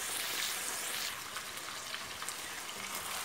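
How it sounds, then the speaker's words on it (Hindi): Chicken pieces frying in hot oil in a pan until golden brown, a steady, fairly quiet crackling sizzle with faint pops throughout and no voices. "चिकन को भी गोल्डन ब्राउन होने तक इसी तरह पकाएंगे।"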